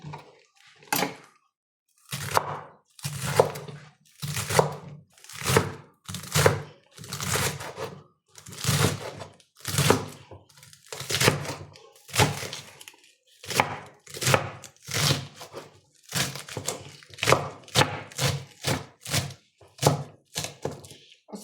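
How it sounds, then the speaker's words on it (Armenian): A knife chopping leek on a cutting board, making steady, repeated thunks in quick bursts with short pauses between them, close and clear over about twenty seconds. "Հիմա մակն եմ կտրում"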